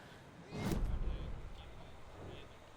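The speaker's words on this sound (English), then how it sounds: "Lovely loud car outside." A single car swelling past outside at night in Alan Wake 2, a brief rushing pass that rises quickly and fades into quiet ambience.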